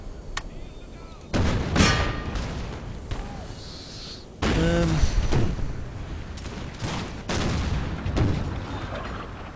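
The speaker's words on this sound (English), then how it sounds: "let's give him a bit of grape shot then" Cannons firing grapeshot in the Empire: Total War game: several loud, booming discharges spaced a few seconds apart, each with a long rumbling tail, over a steady background din of battle.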